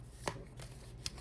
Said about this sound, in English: I'm just gonna shuffle a little bit. I'm gonna shuffle first.